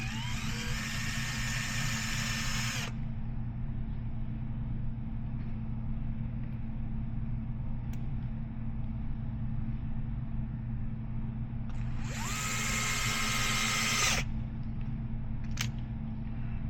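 A power drill drives screws into a Losi Sprint 22s body panel, two bursts of high whirring, one at the start and another near the end, over a constant low mechanical hum.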